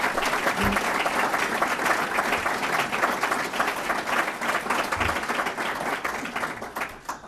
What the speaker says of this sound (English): Certainly like a round of applause to recognize Mr. Piccolo and Mr. Bucaris.